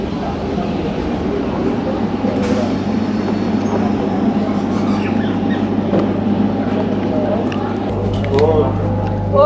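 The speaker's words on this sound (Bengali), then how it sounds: "এই ট্রেনে উঠে পড়লাম।" Local train at Nabadwip Dham station, a steady rumble and hum of the carriage from inside, constant throughout with a low engine drone, as a person talks over it.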